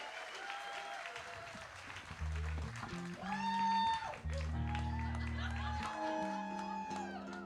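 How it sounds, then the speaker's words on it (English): A concert audience at a tribute show applauds and cheers, with steady clapping, whoops and shouts filling the room while music and voices carry underneath. "Give yourselves a hand."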